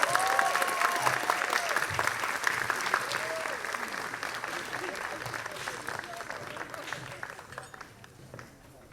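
Audience applause for 2022 Tequio scholarship recipients at a Night in Oaxaca celebration, a sustained crowd of clapping that holds steady for several seconds before thinning toward the end, with faint voices mixed in.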